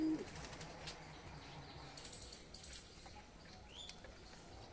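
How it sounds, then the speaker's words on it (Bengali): Pigeons bathing in a small loft flap their wings in faint, scattered bursts, with a few soft coos and chirps against quiet background hiss. "পায়রা সব চান করছে এখন।"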